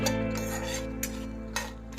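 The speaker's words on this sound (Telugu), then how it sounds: "సన్న సగం మీద ఆపకుండా ఫ్రై చేసుకుంటూ కలుపుకుంటూ ఉండాలండి" Tempering spices and red chillies are stirred over a low flame in an iron pan, giving a steady soft sizzle with a few sharp scrapes of the ladle against the metal, with no speech.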